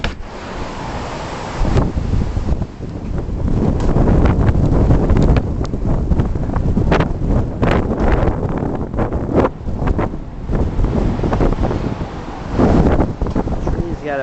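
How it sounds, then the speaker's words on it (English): Strong wind on a blustery day in California buffets the microphone outdoors, loud rushing gusts that swell and drop irregularly with sharp blasts of wind noise throughout. "I'm going to show you how windy it is."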